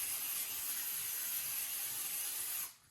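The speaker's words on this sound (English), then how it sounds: "just gonna hit this with a little spray" Cooking spray hisses onto bluegill fillets in a steady, close burst lasting a few seconds, then stops abruptly.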